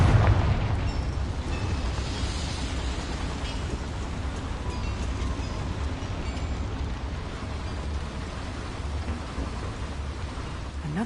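A Confringo blasting spell explodes in Hogwarts Legacy: one sharp burst at the start, then a loud, steady, rumbling roar that stays broad and dense for about ten seconds before easing slightly.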